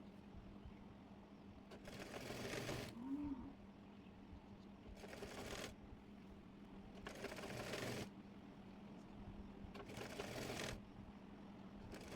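A sewing machine stitches pleats into a cotton petticoat in four separate bursts, each about one to two seconds long with short pauses between, quiet and close.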